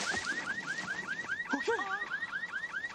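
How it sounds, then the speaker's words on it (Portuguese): Car alarm going off in a wooded area near a hot spring, a rapid repeating chirping siren with sweeping electronic tones, fairly close and steady, with a brief spoken exclamation over it. "É o alarme do carro?"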